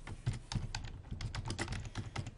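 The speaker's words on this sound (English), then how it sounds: "we're going to type the words running head" Fast, steady typing on a computer keyboard, a continuous run of light clicking keystrokes with no voice over it.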